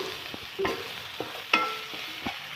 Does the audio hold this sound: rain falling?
no